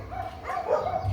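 Dogs bark and yelp in the background of a home garage while a 1995 Honda Accord's transmission is swapped from automatic to manual: a muffled, somewhat distant burst of barking that swells briefly.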